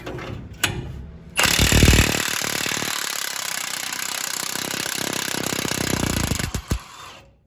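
An impact wrench removing rear axle bolts on a 1964 Ford F100, a loud close rattling hammer burst lasting several seconds, with brief clanks before and after.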